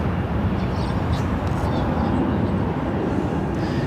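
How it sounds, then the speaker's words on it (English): An airliner, an American Airlines Airbus A319 arriving from Vancouver, approaches Los Angeles LAX airport. A steady, broad jet roar stays loud and unbroken for the whole stretch. "Our next arrival, American Airlines Flight 1719, coming in from Vancouver in an A319"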